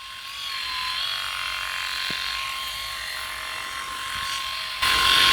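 A Philips i9000 electric shaver runs while shaving, giving a steady, close motor buzz with a high whine that holds level and grows slightly louder at the end.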